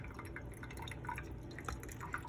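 Water from a kettle is poured slowly over coffee grounds as a thin, continuous trickle with small splashy drips, close and fairly quiet.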